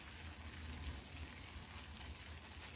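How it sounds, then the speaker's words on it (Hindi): Water poured over sevai and milk powder in a hot pan gives a steady, faint sizzling hiss like light rain, continuous and even for the whole stretch with no talking. "मिल्क पाउडर डालने के बाद थोड़ा सा इसके ऊपर पानी डाल देते हैं"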